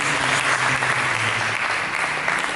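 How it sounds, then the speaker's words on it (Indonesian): Church congregation applauding during a worship service, a full, steady burst of many hands clapping with a faint low musical hum beneath, lasting a couple of seconds. "Mari kita berikan tepuk tangan kepada Yesus."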